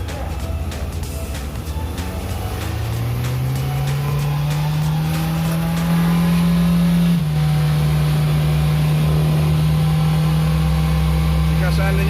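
A car engine revs up steadily, its pitch climbing and then holding at a high, loud drone before dropping slightly; a voice speaks briefly under it.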